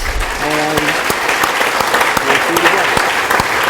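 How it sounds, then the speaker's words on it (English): Audience applause at a high school National Honor Society and awards ceremony fills the room, a dense, steady wash of clapping throughout, with a voice speaking briefly over it. "let's give them one more round of applause"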